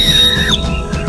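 A whistle won as a prize in a Women's Day game for teachers gives a shrill, steady high tone that bends and slides near the end of a short, loud blast.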